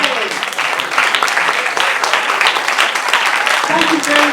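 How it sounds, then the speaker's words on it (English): Audience applause at a maths festival, dense, loud clapping from a large crowd that continues evenly throughout, with a voice speaking briefly near the end. "I want you to give them a round of applause"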